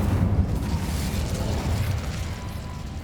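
A fire spell bursts in the Hogwarts Legacy video game, a dense low rumbling roar of flame and blast that holds steady for about three seconds, loud and close with no speech.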